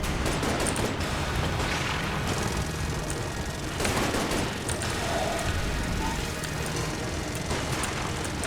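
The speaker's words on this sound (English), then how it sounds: "Let's go start off with the science cannon." Rapid, dense gunfire from the science cannon in the Enter the Gungeon video game keeps up a steady barrage of shots and impacts, with a player's voice talking faintly now and then.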